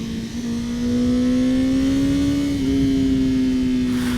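A 2021 Honda CBR 1000 RR-R SP motorcycle engine holds a steady, high-pitched rev that climbs slightly, a loud continuous whine close to the rider with wind rush underneath.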